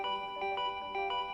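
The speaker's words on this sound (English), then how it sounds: "And now the doorbell won't stop ringing." A doorbell in the game Danganronpa V3 chimes repeatedly, clear two-tone rings arriving in quick pairs one after another, insistent and close, with no talk over it.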